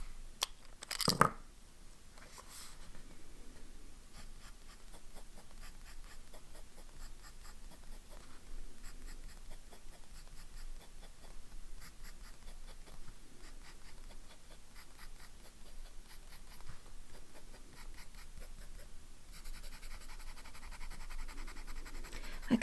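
Fountain pen with a fine nib writing on Cosmo Airlight paper, a close, faint, continuous scratchy rhythm of strokes and short pauses, with a few louder knocks near the start and end.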